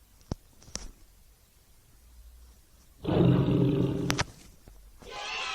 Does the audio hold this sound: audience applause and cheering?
no